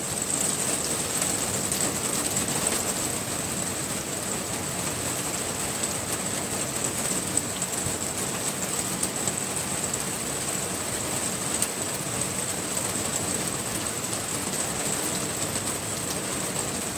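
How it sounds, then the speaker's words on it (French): Rain, alternating with hail during a single-cell pulse thunderstorm, pours down as a dense, unbroken roar of hiss that stays steady throughout. "Alternance de grêle et de pluie normale."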